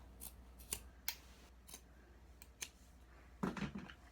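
Scissors cut the top off an old sock: several short, quiet snips spaced irregularly, with a slightly longer crunchy cut near the end, and no voices.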